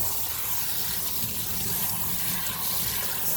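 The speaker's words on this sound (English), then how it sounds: "Put some water onto the filter." Water poured onto a Hoover React Pro Pet vacuum filter, running and splashing steadily at close range, a continuous hissing pour with no pauses.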